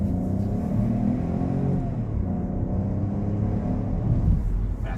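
The 1.2-litre PureTech three-cylinder engine of a Peugeot 408 hums steadily and then rises in a moderate rev, heard up close with a throbbing, uneven tone and no talk.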